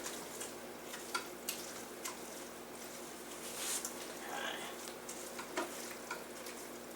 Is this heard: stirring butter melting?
yes